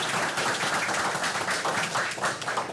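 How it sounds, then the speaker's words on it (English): A round of applause at a council meeting for a Fair Queen candidate, steady, moderately dense clapping from a small crowd, continuous and fairly close. "I'd like to honor her with a round of applause"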